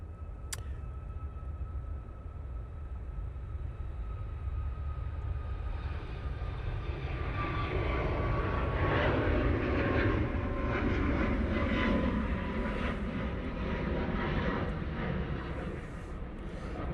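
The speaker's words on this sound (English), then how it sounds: "Off to Dublin, there you go, with that 737 MAX 8." A Boeing 737 MAX 8 departs Manchester Airport bound for Dublin, its jet engine roar building steadily and peaking midway, broad and sustained, heard from a distance with no talking.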